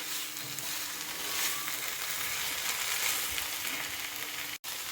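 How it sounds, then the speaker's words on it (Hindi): Ground dried dates roast in a pan for halwa, giving a steady, dense sizzling hiss that fills the whole stretch at close range, broken only by a split-second dropout near the end. "इसे अच्छे से मिक्स करके 10 से 12 मिनट तक इसे अच्छी तरह से भून लेंगे"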